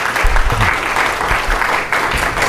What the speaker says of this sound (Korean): 우리 환영의 박수로 보내주시면